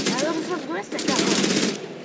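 An automatic rifle in Wolfenstein: The New Order fires rapid continuous bursts that stay loud and close throughout, with a voice speaking over the shooting.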